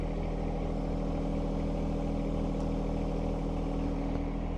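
A John Deere 1025R compact tractor idles steadily up close, its engine giving a constant low, even drone with no revving and no voices.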